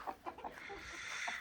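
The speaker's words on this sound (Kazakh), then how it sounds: "Осы тауықтар." Chickens on a small homemade farm give a few soft, scattered clucks, faint and fairly distant in a quiet setting.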